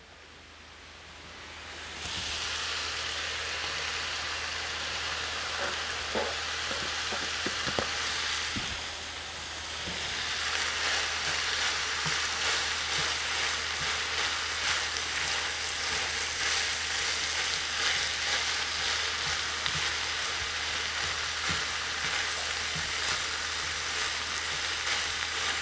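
Carrots, peppers and spring onion sauté in a pan at a cottage kitchen, a loud, even hiss of frying that swells after a brief dip, with a few light clicks of stirring and no voices.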